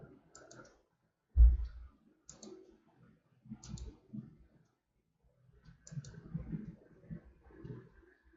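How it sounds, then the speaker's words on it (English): Computer mouse clicks while modelling a staircase slab in design software: a few isolated, sharp clicks spaced through quiet, with one stronger click early on and soft room noise between. "and then right click to leave"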